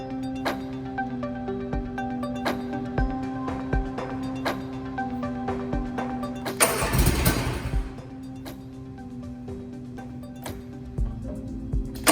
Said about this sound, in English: turn the key to the start position and release it once the engine starts